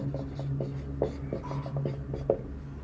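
A pen or marker scratches out short strokes during a maths lesson, nearby and fairly loud over a steady low hum, with no voice.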